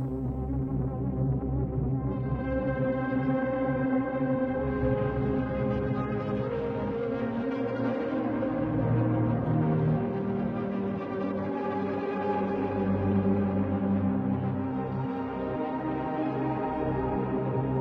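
Long sustained synth notes run through a Mosaic effect plugin with added reverb space, forming a dense, washed-out drone of layered tones that swells gently and holds steady throughout.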